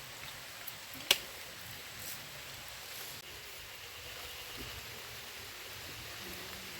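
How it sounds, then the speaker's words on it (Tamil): Heavy rain falls as a steady, moderately quiet hiss of broad wash, with a single sharp click near the start and no speech. "மழை பெய்யுது பயங்கரமா."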